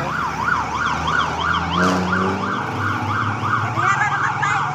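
Wailing siren from fire trucks passing near a just-extinguished fire in Davao City, rising and falling steadily and loud throughout, with traffic rumble underneath.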